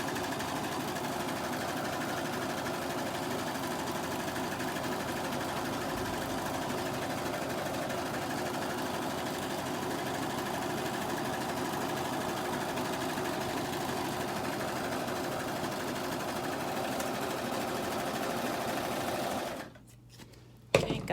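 A sewing machine stitches down fabric edges on a pillow cover in one steady, rapid run of needle chatter, then stops near the end with a few handling clicks.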